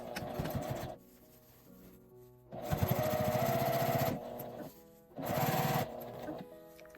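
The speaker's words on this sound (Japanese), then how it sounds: "返し口を閉じるように上端を縫います。" A sewing machine stitches the top edge of a fabric drawstring bag in three separate runs, one short, one longer and another short, with quiet pauses between them.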